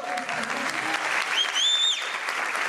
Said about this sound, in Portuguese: eu queria uma salva de palmas para todo o time